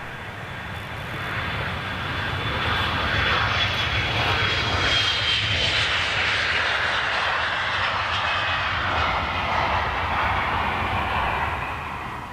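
A China Southern airliner passes close by, its jet engines rising to a loud rushing roar with a thin whine on top, then fading slightly toward the end; no one speaks.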